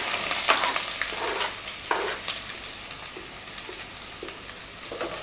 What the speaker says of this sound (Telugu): దీంట్లో ఉల్లిపాయ ముక్కలు పచ్చిమిరపకాయ ముక్కలు వేసుకుంటున్నాను